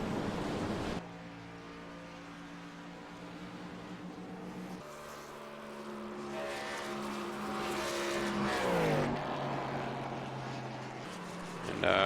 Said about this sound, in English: All right, so now the lapped cars are coming down pit road.